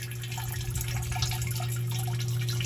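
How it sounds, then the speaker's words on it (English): A Tower Garden's pump circulates water up from its reservoir, giving a steady low hum with continuous soft trickling and dripping water, close and constant throughout. "the pump, and basically what the pump does is it sucks the water up"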